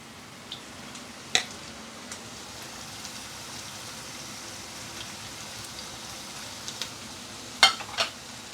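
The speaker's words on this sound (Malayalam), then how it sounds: "ഇത് നമ്മൾ അരിഞ്ഞു വെച്ചിരിക്കുന്ന സവാള ഇതിലോട്ട് ഇട്ട് കൊടുക്കാം" Chopped onions hitting hot oil for a crispy fish cutlet give a faint, steady sizzle. A few sharp ticks and spatters pop out now and then, with no talking.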